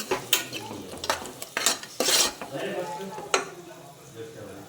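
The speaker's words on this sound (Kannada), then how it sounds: "ಇದನ್ನು ಸ್ವಲ್ಪ ಹುರ್ಕೊಳ್ತಾ ಇದ್ದೀನಿ." Coriander powder and salt being stirred and dry-roasted in a pan, with soft scraping and clinks of a spoon against metal in irregular strokes, fairly quiet and close.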